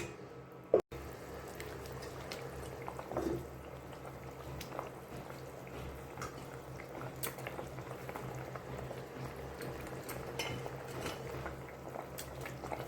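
Fish goes into a pan of boiled potatoes, and a steady close bubbling and simmering runs for the whole stretch after a brief sharp clatter near the start; no talking.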